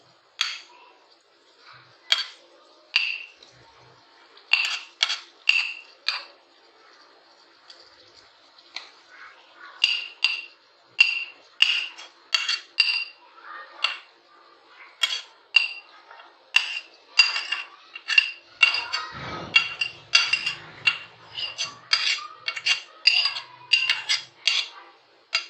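A metal utensil repeatedly clinks against a pot while chicken keema is mixed, with sharp, close taps in uneven bursts that keep going throughout, plus a few soft, low thuds near the end.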